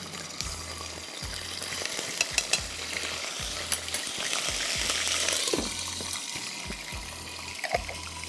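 Two teaspoons of Italia garlic paste fry in a pan for a royal chicken dish, with a continuous sizzle and a regular series of spoon scrapes and knocks against the pan throughout.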